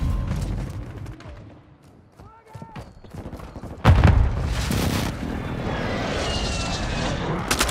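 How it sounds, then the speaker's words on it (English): Hostile airstrike in the mobile shooter COD Mobile: after a quieter stretch with scattered sounds, a heavy explosive boom hits near the midpoint and gives way to a sustained, loud roar of blasts and aircraft rumble. "Hostile airstrike near your location."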